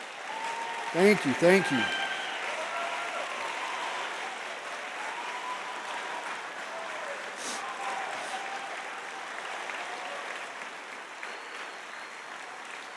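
Audience at a gala gives sustained applause, steady clapping filling the room for many seconds after a brief spoken thanks at the start.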